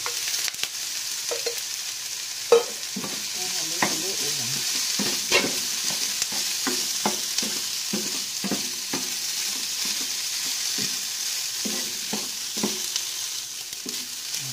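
Red rice stir-fried with onion and garlic in a hot pan: a steady sizzle runs throughout, broken by repeated sharp scrapes and knocks of a spatula against the pan, close and fairly loud with no talking.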